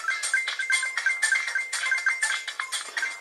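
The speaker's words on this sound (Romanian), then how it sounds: "Cu ocazia asta vedeți cum se aude acest smartphone." A ringtone on an Orange Yomi smartphone, played through its speaker at maximum volume: a bright, tinny looping melody of quick notes with a thin, slightly harsh small-speaker tone.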